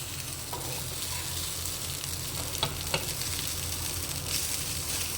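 Two eggs fry in a pan for brinjal fried rice, a steady close sizzle with a few soft scraping stirs and light clicks on top.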